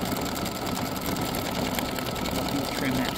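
An embroidery machine stitches pink thread for a flamingo wing in a sunglasses design, a continuous fast mechanical whir with rapid needle chatter, steady and close throughout.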